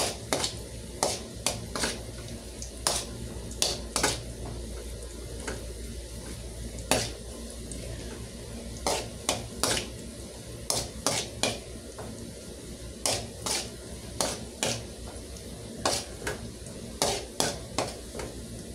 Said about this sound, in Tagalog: papupulahin muna po natin ang bawang para po sunod naman po natin ay ang sibuyas